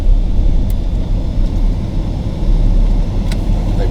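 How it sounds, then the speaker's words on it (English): A car turns a corner and pulls up to a house, a steady loud engine and road rumble lasting throughout with no talking. "we're turning the corner to pull up to 15 Westwood"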